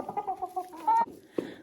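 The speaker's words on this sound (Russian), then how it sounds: "Вот такой красивой курочки, хорошие несушки." Laying hens, including Ameraucanas, cluck in a backyard chicken coop: short, close, choppy clucks and a few higher squawks in quick succession.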